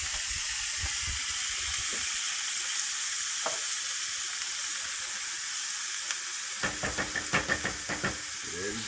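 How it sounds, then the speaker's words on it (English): Corn tossed into a hot cast iron pan sizzles with a steady frying hiss throughout, quiet at first, then a burst of crackling pops and spatters near the end. "our pan, cast iron pan is nice and hot. We're going to throw our corn in there."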